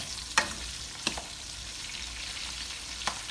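Onions, garlic, Scotch bonnet pepper and tomatoes fry in a pan for ackee and saltfish, a soft steady sizzle broken by a few sharp clicks of a utensil against the pan, with no talking.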